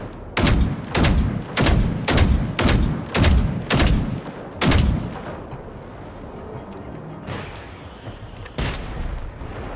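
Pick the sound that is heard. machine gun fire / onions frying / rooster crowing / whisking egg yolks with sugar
machine gun fire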